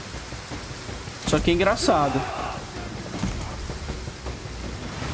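Steady hiss of rain falls throughout a battle in Total War: Pharaoh, while someone talks briefly over it in the middle.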